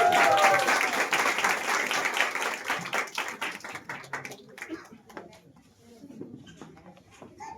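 Congregation clapping to welcome children at a Christmas church service, a loud burst of many hands that gradually thins into scattered claps and quieter room noise.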